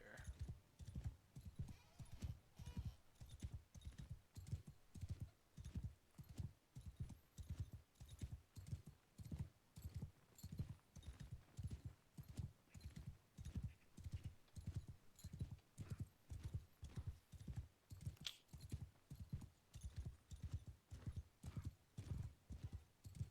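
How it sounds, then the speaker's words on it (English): A horse gallops uphill in the video game Bannerlord, its hooves pounding in a fast, steady clip-clop rhythm throughout, with an occasional whinny over the continuous beat. "I'm on a horse, but going uphill."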